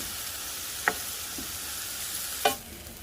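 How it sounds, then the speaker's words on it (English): Onions sauté in a pan for charro beans with a quiet continuous sizzle, broken by two distinct scraping stirs of a utensil, the second one louder. "And saute until the onions are translucent."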